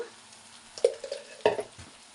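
Prawn curry stirred in a frying pan, a few soft scraping strokes and clinks of a spoon against the pan, close and quiet, without talk.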